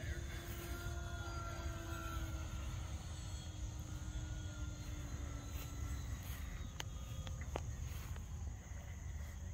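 An FMS Typhoon 1100mm radio-controlled model airplane on its maiden flight, a faint, steady motor whine in the distance under constant outdoor noise, with brief talk nearby.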